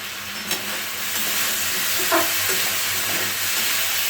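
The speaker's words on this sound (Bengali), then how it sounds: "এবার আমরা ঢাকনা সরিয়ে ভালো করে নেড়ে চেড়ে নেব।" A potato curry for luchi frying in a pan, with a steady broad sizzle and a few scraping stirs, close and continuous with no talk.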